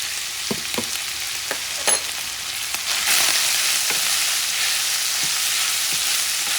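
Longaniza sausage and tomatoes fry in a pan for Mexican-style tacos, a steady close sizzle with occasional stirring clicks and scrapes, growing a little louder and denser partway through.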